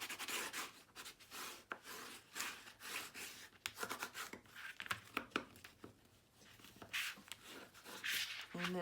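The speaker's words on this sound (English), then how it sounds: "I'm gonna burnish everything." Tape on the pages of a paper mini album is burnished with repeated close, dry rubbing and scraping strokes in uneven bursts.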